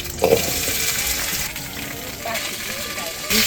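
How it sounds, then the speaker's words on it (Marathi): Moringa drumstick pods hit hot oil in a kadhai and sauté with a close, steady frying sizzle, opening with a brief clatter as the pods go in, plus occasional stirring scrapes. "कढई तापली, आता तेल टाकायचं. आता शेंगा परतायला टाकायच्या."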